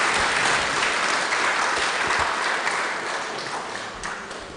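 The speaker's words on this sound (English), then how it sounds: "A big, big, big round of applause for our commissioners." Loud, sustained applause from an audience honouring commissioners at a public inquiry session, dense clapping throughout that eases off slightly toward the end.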